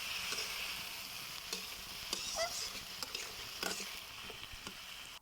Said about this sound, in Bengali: এখন আমি ভালো করে মশলার সাথে মিশিয়ে নিচ্ছি